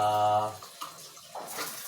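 Water running from a newly bought faucet switched to its shower setting, a brief rushing splash that breaks off into scattered trickles and sputters while a voice speaks over it.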